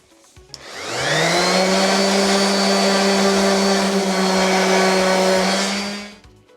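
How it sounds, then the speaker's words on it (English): A power sander runs over scorched wood on an epoxy river piece, spinning up from silence into a loud, steady whine that holds for about five seconds before winding down and stopping. "I'm just gonna sand that off."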